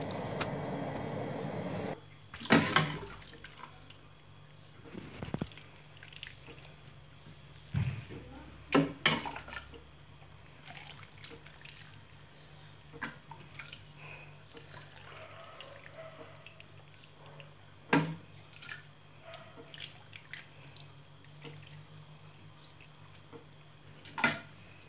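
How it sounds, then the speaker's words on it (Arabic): Water moistening couscous for a Moroccan dish, heard as faint, intermittent drips and short splashes against a quiet background, spread out over the whole stretch with no talking. "نسقي الكسكسو ديالي، نسقيه مزيان"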